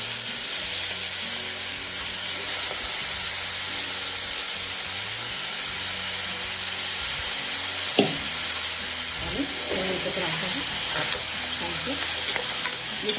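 Mutton with onion and turmeric sizzling steadily in a pan while being stirred, a continuous close frying hiss with occasional scraping stirs.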